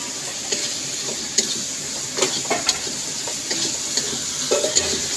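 Prawns and other ingredients sizzle steadily in hot oil in a home kitchen pan, with a continuous frying hiss and scattered scrapes of a spatula stirring, near and moderately loud, no talking.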